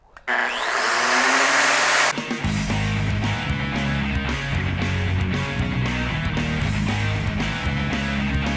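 A Metabo power drill drives screws during a cargo trailer build, a loud whirring motor that drops into a lower, labouring grind with repeated short bursts and clicks as each screw goes in.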